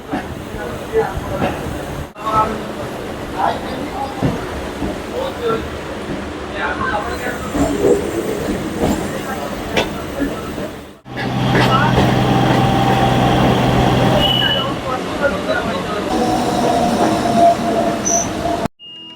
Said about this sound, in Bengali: আর এই হচ্ছে এক নম্বর প্ল্যাটফর্ম থেকে বেরিয়ে যাচ্ছে